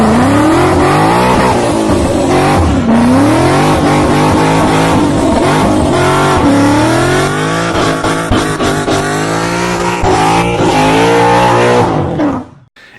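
Car doing a burnout, its engine held at high revs with wavering pitch and a continuous loud tire squeal for about twelve seconds, then cutting off abruptly at the end.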